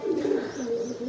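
A homing pigeon gives soft, throaty coos in a short rolling phrase, close and moderately quiet, with no voices.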